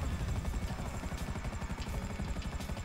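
Video game helicopter rotor thumping steadily and loudly, a continuous chopping drone with rapid low pulses throughout, no talk.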